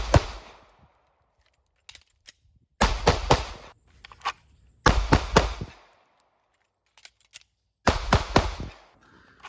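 Pistol gunshots in a shooting drill, sharp loud cracks fired in quick bursts of several rounds separated by pauses for a magazine change, with faint clicks and handling sounds between strings.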